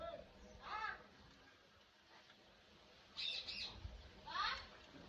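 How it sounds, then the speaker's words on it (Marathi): Short bursts of sparrow chirping come in three clusters, fairly close, over a quiet village outdoor background with faint voices. "मस्त आवाज येतोय मस्त पक्ष्यांचा चिमण्यांचा तुम्हाला आवाज येत असेल"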